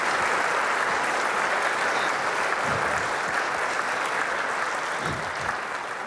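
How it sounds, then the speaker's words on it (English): A concert audience applauds a gamer symphony orchestra and its choir, a steady, dense wash of clapping that holds at full strength from start to finish with no talk over it. "So round of applause for this amazing group."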